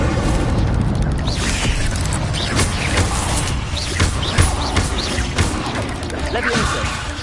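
Fire spell bursts in the Hogwarts Legacy video game, dense booming crashes and crackling impacts layered with music and effects, loud and continuous, with a voice calling out spell names over them.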